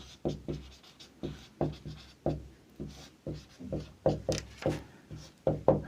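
Chalk or marker writing on a board during a chemistry lesson, a series of short rhythmic scratchy strokes, about a dozen quick taps and scrapes heard close without speech.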